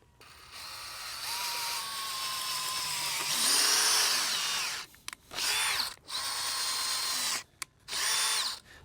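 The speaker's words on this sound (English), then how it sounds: "we're just going to pre-drill our holes" A power drill pre-drills holes in wood for a raised bed hoop house frame, whining steadily for several seconds before a series of short bursts separated by pauses, close and fairly loud.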